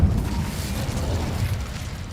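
An Incendio fire spell cast in Hogwarts Legacy, a loud, dense whooshing roar of flame with a deep rumbling low end, sustained without break for a couple of seconds.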